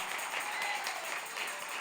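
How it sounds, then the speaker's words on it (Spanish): A church congregation applauds during a Sunday service, producing a steady, moderately faint wash of many hands clapping that holds evenly throughout with no talk over it. "Le das aplauso sonoro a Él."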